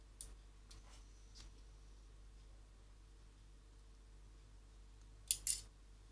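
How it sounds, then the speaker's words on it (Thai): Scissors snip crochet yarn twice in quick succession near the end, crisp and close, after a few faint earlier clicks over a quiet room hum. "ตัดไหม"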